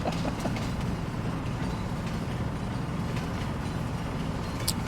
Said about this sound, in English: Oh, here the train comes.